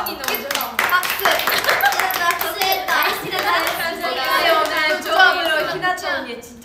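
Several people clap by hand in sharp, uneven bursts at a live anniversary party, close and fairly loud, with excited chatter and voices talking throughout.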